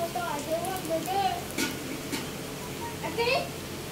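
Egg-coated bread rolls with hotdog inside fry in hot oil with a steady crackling sizzle, broken by brief stirring clinks, while a voice talks over it.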